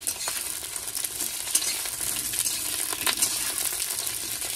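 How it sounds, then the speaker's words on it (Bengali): Pointed gourd pieces fry in hot oil in a kadai, giving a steady crackling sizzle with occasional stirring scrapes, close and continuous throughout. "পটলগুলো আগে ভেজে নিচ্ছি"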